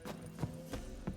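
Hooves of Roach, Geralt's horse in The Witcher 3, clip-clopping at a slow walk: four soft, evenly spaced thuds, faint and close.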